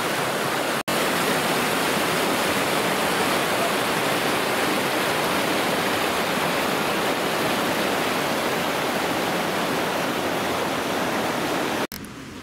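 A natural waterfall cascade on the Suzon in its valley near Dijon pours as a dense, continuous roar of falling water, loud and even throughout, with a brief break near the start and a drop at the very end.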